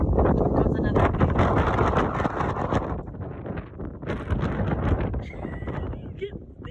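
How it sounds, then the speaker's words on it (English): Strong outdoor wind gusts roar across a dusty horse arena next to a long fence in a garden setting. The blustery rumble comes in heavy surges, dropping briefly before gusting again. "So yeah, lots of dust, lots of wind."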